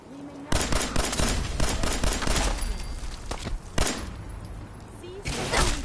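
Machine gun fire rattles in rapid, loud bursts with heavy thumping shots, near and continuous, broken by short pauses as voices shout over the shooting.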